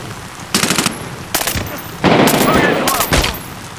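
Gunfire in the video game Medal of Honor Warfighter: several loud, rapid bursts of automatic fire separated by short pauses, close and sharp, with the longest burst in the middle.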